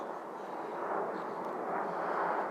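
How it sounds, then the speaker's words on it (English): An airplane passes overhead outdoors, a broad steady roar that swells slightly and holds throughout, moderately distant. "my lovely video is interrupted by the plane flying over with lovely plane noise"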